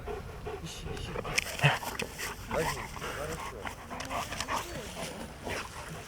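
A trained dog pants and whimpers excitedly after finding a hidden dummy pistol, with short yips close by under people talking throughout.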